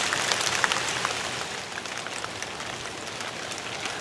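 Steady rain pours down outside a shop, a dense hiss of drops pattering on surfaces close by, continuous and fairly loud with no voices.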